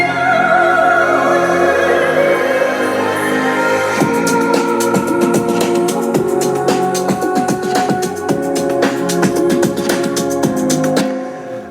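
Cinematic orchestral track built in FL Studio, sustained strings and chords at first, then loud drum hits crash in around four seconds and pound in a steady rhythm beneath the full arrangement until it cuts off.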